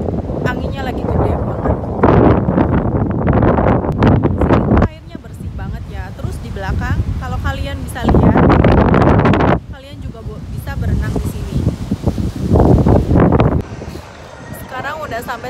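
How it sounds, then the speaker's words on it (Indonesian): Strong gusts buffet an outdoor microphone on Heping Island, Taiwan, with loud broadband roaring in long surges separated by brief lulls, and people talking underneath the wind throughout. "Sekarang tuh lagi anginnya lagi gede banget."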